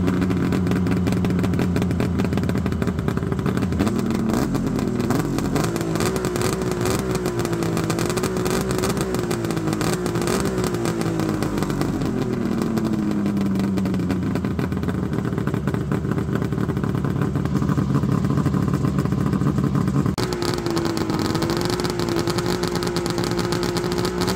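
Modified snowmobile engine revving loudly and continuously up close, pitch rising and falling through repeated throttle blips with a rattling, clattery tone throughout.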